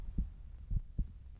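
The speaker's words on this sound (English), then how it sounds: "His heartbeat quickens as the men take up their rifles and load a round into the chamber." A heartbeat sound effect throbs low and muffled, three soft dull beats unevenly spaced over a faint background hum, with no other sounds.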